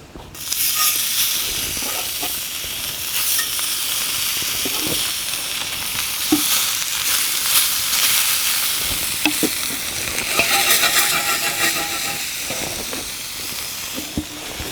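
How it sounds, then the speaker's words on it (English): A wagyu steak sears in a pan heated to extreme temperature, giving a loud, steady sizzle and hiss throughout, with scattered crackles and pops and a brief dip in intensity toward the end. "The idea is we're just going to sear the outsides, then rest it."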